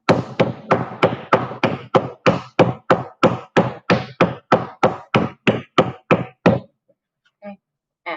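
A lump of clay is slapped onto a work surface for sculpting mugs, about eighteen sharp, evenly spaced smacks in a steady rhythm, then a brief pause and a couple of faint handling sounds.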